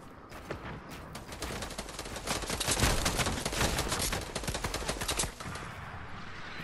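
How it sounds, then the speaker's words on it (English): Rapid, dense automatic gunfire from the Fortnite video game, a continuous burst of shots lasting several seconds at moderate level with no talking. "That guy was shooting at you, but all sprayed me."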